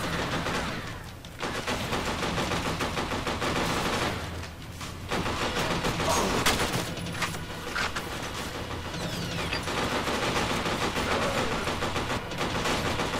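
Heavy weapon gunfire in the shooter game F.E.A.R., dense rapid shots with booming impacts running almost without pause, loud and close, easing briefly twice.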